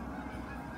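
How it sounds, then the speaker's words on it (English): Outdoors, geese honk in a short, dense, continuous burst of overlapping calls, close and fairly loud. "Apparently the geese think that it's time to fly back north again."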